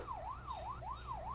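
A fast wailing ambulance siren rises and falls rapidly, several even cycles, heard faintly from some distance over a low rumble.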